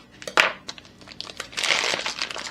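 Plastic packaging around flounder fillets being cut and pulled open, a sharp crinkle followed by sustained rustling and crackling of the wrap, close and fairly loud.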